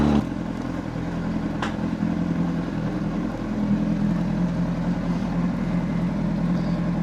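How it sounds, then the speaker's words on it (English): A Honda CBR600RR motorcycle cruises at a steady pace, its engine a constant droning hum mixed with road and wind noise, broken only by a brief clatter near the start. "That was a nice leisurely ride on the 600rr."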